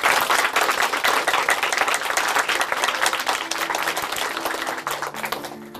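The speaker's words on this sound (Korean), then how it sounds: "우리 박수로 축하해드리겠습니다" An audience in a church service applauds a family: dense, steady clapping from a crowd that holds for several seconds and then tapers off, with no talk over it.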